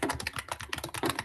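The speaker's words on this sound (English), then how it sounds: "Diana, your keyboard." Rapid typing on a computer keyboard during an online interpreting class, a quick irregular run of close, crisp key clicks with no talk over it.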